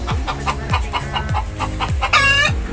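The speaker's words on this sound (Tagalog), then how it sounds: "Pangatlong manok na yan na nag-itlog dito sa munting tindahan natin na mga kaduwa." A hen clucks loudly after laying an egg at a small sari-sari store, giving a close, repeated series of clucks that ends in a higher drawn-out squawk.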